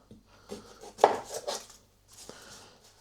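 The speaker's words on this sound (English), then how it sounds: "So I'm going to chop the ends off." A knife chops the ends off onions on a board: a few close, sharp cutting knocks and scrapes in short bursts, the loudest near the middle, alone in a quiet kitchen.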